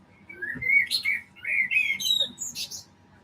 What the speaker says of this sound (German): Die Amsel ist der Hammer.